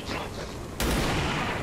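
Gunfire from the XCOM 2 video game, with one sharp loud shot cutting through a continuous rumbling game soundscape.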